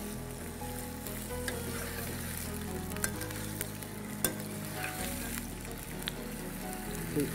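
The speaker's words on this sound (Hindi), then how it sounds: "आलू फ्राई हो रहे हैं" Potatoes fry in a pan with a continuous, close sizzle, dotted with occasional sharp pops and light scraping from stirring.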